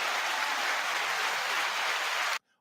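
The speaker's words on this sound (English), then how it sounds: "That's like my favorite sound effect, the applause." A canned applause sound effect on a talk show: dense, steady clapping at even loudness for over two seconds, then cut off abruptly to silence.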